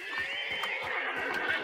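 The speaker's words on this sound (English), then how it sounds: "How did the horses go in so angry?" Agitated horses neighing and whinnying in the video game Hunt: Showdown, a steady, fairly faint run of high cries with some hoof clatter, no talk over it.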